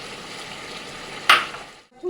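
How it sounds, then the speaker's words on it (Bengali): Chicken and spices frying in a pan while being stirred, a steady soft sizzle with one sharper scraping stir partway through before it briefly drops away. "এবার কিছুক্ষণ মতন এটা এইভাবে নাড়তে থাকবো এটা কিন্তু কন্টিনিউ নাড়তে হবে"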